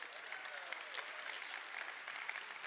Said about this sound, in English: Give them both a round of applause as they make their way to the front.